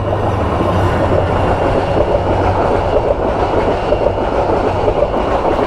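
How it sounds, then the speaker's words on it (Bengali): The Subarna Express passes on the Dhaka–Chattogram line in rainy weather, a loud, steady rumble of wagons and rhythmic wheel clatter that stays close throughout. "সুবর্ণ এক্সপ্রেস ঢাকা চট্টগ্রাম"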